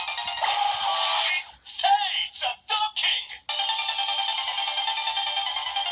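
A Kyuranger Seiza Blaster transformation controller toy plays loud electronic chimes and ringing tones, a long tone, then a choppy burst of short sounds, then another steady ringing passage, with no voices.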